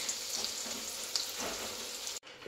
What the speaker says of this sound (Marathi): आधी कांदा टोमॅटो ते परतून घेते